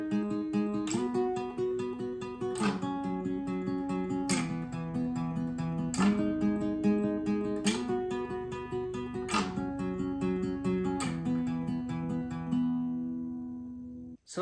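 Second guitar part of the intro to a song, played alone with a steady picked pattern and fresh strums about every 1.7 seconds. It is clear and even in level and fades at the close.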